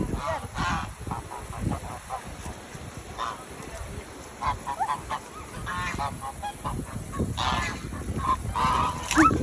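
Geese honk repeatedly at a mountain lake over a noisy outdoor background, calls coming in scattered bursts, fairly close, with some voices nearby.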